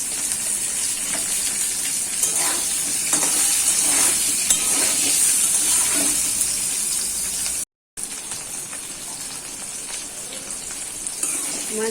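Sajne data (drumstick pods), seasoned with salt and a little turmeric, sizzle and hiss steadily in hot oil in a pan, a continuous close frying crackle with a brief gap near the end.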